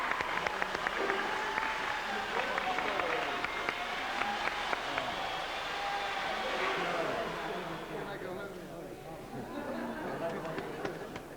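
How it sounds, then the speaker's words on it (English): An audience applauds ice sculptor Duncan Hamilton at a futurist meal, scattered clapping mixed with chatter and talking voices, the clapping thinning out in the latter part. "can we have some applause, please, for Duncan Hamilton, please?"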